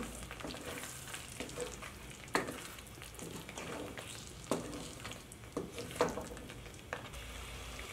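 Julienned green chillies and ginger fry with mutton in a karahi, a steady close sizzle with occasional sharp clinks and scrapes as the pan is stirred.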